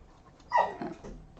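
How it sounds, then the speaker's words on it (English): An upset puppy gives one short, plaintive whimper that rises briefly and trails off, fairly close and alone against a quiet background. "Oh, the puppy's upset."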